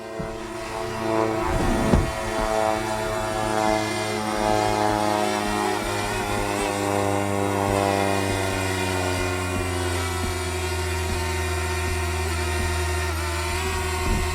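A drone hovers nearby with a steady, high whining buzz from its spinning propellers, sustained and even throughout with slight pitch shifts, no talking.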